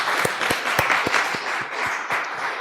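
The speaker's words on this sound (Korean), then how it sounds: "감사의 박수를 한번 보내겠습니다." A small church congregation gives a short round of applause of thanks during a Thanksgiving service, distinct claps ringing out at a loose rhythm alongside a softer wash of hand-clapping.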